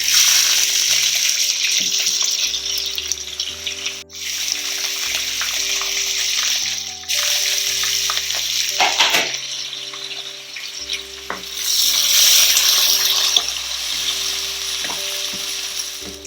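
Four long-sliced onions frying in a pan for a seafood biryani, a bright hissing sizzle throughout with stirring clatter, a swell in intensity near the end, and a low steady hum beneath.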